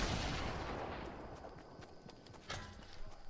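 Grenade launcher fire in Fortnite: a roaring blast at the start fades, followed by a series of sharp thumping shots and explosions spaced over a few seconds at moderate volume.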